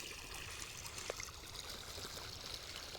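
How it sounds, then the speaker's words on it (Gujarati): Irrigation water turned on in a farm field trickles and gurgles in a soft continuous flow, faint and close, with a couple of small splashes and no talk. "પાણી ચાલુ કરી દીધું"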